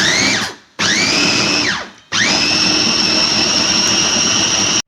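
An electric grinder whirs loudly as it blends harissa sauce ingredients, running in three bursts: two short runs that spin down with falling pitch, then a longer steady run.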